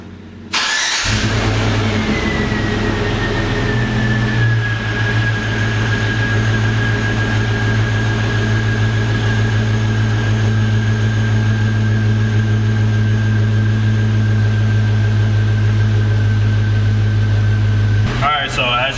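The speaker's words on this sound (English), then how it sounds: "I'm gonna start the vehicle and see if there's a difference" A car engine fires up with help from an ANCEL BS200 jump starter, then settles into a steady, loud idle with a continuous hum and a whine, running alone for most of the stretch before cutting off near the end.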